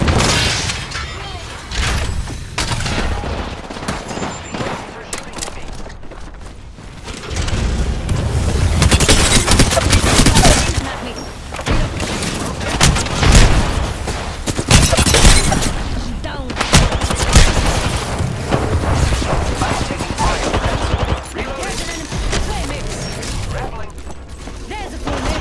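Apex Legends gunfire, Rampart in the match, crackles in dense repeated bursts with booms and mechanical clatter, loud and close and continuing for a long stretch under game noise and occasional voice.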